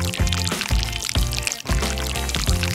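Liquid chocolate pours onto a plant in a steady glugging stream, close and continuous over a bouncy musical background with no speech.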